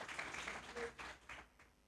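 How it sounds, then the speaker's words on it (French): An audience in a French television season presentation event applauds briefly, with a soft, faint wash of clapping that fades quickly. "Applaudissez pour elle."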